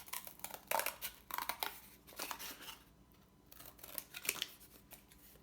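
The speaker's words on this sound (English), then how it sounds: "all I have to do is cut that" Scissors cut out a trapezoid piece of cardboard for a picture frame: a string of crisp snips and crunching cuts with small rustles and a short quiet gap, close and fairly soft.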